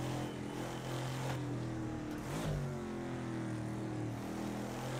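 Lotus 40 race car engine in a PC racing game, droning steadily with harmonic tones that dip and climb through a gear change, loud and continuous with no voices.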